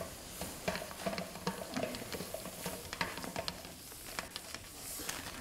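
Butter, onion and green pepper cooking in a Cancooker pot for fish stew, giving a soft, steady sizzle with faint crackles and light stirring taps throughout, fairly quiet.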